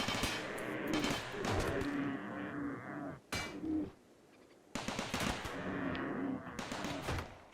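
Defensive turrets in a video game fire sustained bursts of rapid gunfire, which drop out briefly in the middle and then resume at full intensity.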